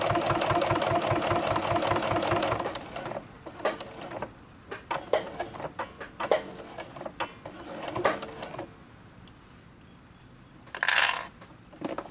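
A sewing machine stitching a fabric glasses case runs in a steady mechanical burst for about three seconds, then stops and restarts in short stuttering pulses, with a brief sharp run near the end.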